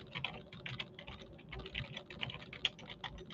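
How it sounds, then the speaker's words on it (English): Rapid, light clicking of keys on a computer keyboard, a quick uneven patter of keystrokes heard close up with no voices. "y'all hear my typing skills"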